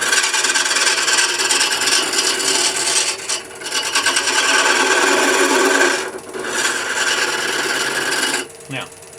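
A carbide lathe tool roughs in a wood handle held against a steady rest, giving a continuous loud scraping rasp with brief dips as the cut pauses, then stopping near the end.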